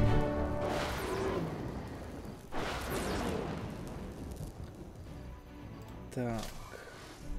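Deep booming artillery blasts with rumbling decay punctuate a busy soundtrack in the video game Age of Wonders 3, with someone talking over the noise.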